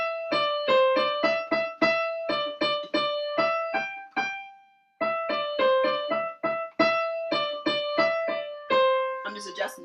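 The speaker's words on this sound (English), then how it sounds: "So let's say if I was to play Mary Had a Little Lamb without chords," Single-note piano melody of Mary Had a Little Lamb played without chords, a clear sequence of struck notes in steady rhythm with one pause midway, close and alone.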